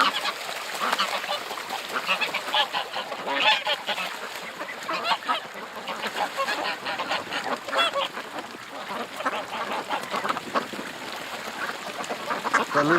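On a freezing -4°C day, a goose honks repeatedly among ducks quacking and splashing in water, a busy close-up clamor of overlapping calls, with a voice talking now and then.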